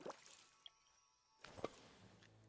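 Watering a plant in the video game Disney Dreamlight Valley gives a faint, brief splash-and-drip effect, two short soft bursts over a quiet background.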